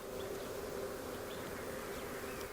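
A small swarm of bees buzzes steadily and continuously at close range, a dense droning hum with no voices over it.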